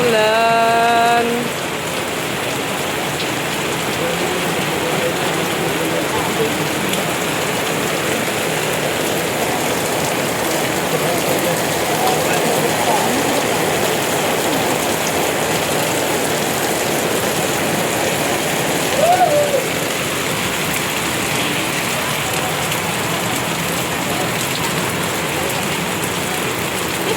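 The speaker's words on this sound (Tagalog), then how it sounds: "Lumakas palalo ang ulan." Heavy rain pours steadily in a dense, unbroken hiss, close and loud throughout, with a brief faint voice near the start.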